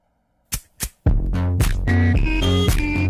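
Old Minecraft Verity intro animation song: two quick whooshing hits, then a loud punchy electronic beat with heavy bass and rhythmic synth stabs, close and without talking.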